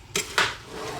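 Ale, apple and mustard chutney being stirred in a pot, two quick scraping clinks of a spoon against the pot close up, followed by a soft bubbling hiss.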